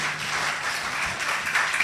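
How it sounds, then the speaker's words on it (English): Steady crowd applause at a financial literacy roadshow, a dense patter of many hands clapping at once, fairly loud and continuous throughout with no voices over it. "So clap for yourselves, every one of you."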